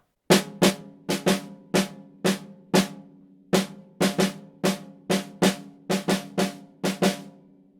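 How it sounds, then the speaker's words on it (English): Crisp snare drum strokes ring out close and loud in an uneven, bouncing syncopated pattern of grouped hits with short pauses, played alone. "we're just going to start out literally reading the rhythms on the snare drum"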